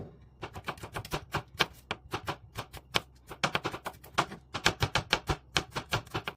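Quick, crisp knife taps against a cutting board as garlic is chopped, a steady uneven rhythm of many close chops with no talking.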